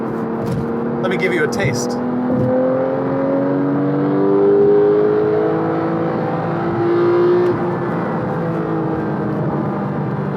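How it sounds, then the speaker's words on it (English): Porsche 911 GT3 991.2 with a cup-car-derived engine, revving hard under acceleration on the road; a loud, rising mechanical whine swells and climbs in pitch, with someone talking over it. "It sounds like a cup car, because it's basically a cup car motor."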